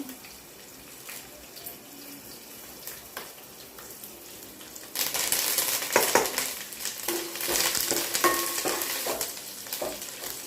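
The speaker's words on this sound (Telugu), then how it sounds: "కరివేపాకు కూడా వేసుకొని కలుపుకోవాలి" Curry leaves tossed into a hot cumin tempering for tamarind-style raw mango rice set off a sudden loud sizzle halfway through, with stirring scrapes following; quieter kitchen clatter comes before.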